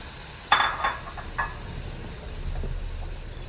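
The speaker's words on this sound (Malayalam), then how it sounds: "ബട്ടറൊന്ന് മെൽറ്റായിട്ട് ഇതിലേക്ക് നമുക്ക് ചിക്കൻ ഇട്ട് കൊടുക്കാം." Raw chicken goes into melted butter in a hot pan with a few sharp clatters and splashes, then settles into a steady soft sizzle and hiss close by.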